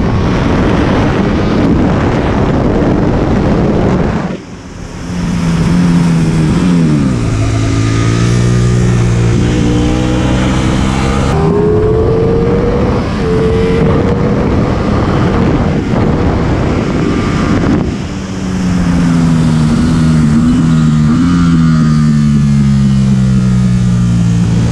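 Ducati Panigale and Streetfighter motorcycles on Pirelli Diablo Rosso Corsa II tyres braking at the end of a track's main straight, loud engines sweeping down in pitch through downshifts and revving again, heavily buffeted by onboard wind roar.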